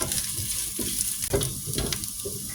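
Chopped onions fry in a pan with a loud, close sizzle, punctuated by a few clattering stirs of a utensil against the pan.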